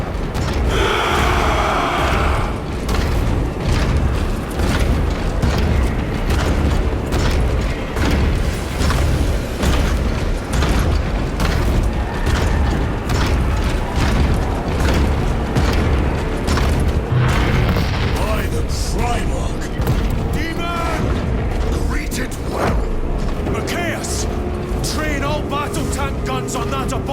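Gunfire and heavy explosions from massed forces in Warhammer 40,000: Space Marine 2, a loud continuous barrage of booms and bursts running throughout, with voices calling out over the battle.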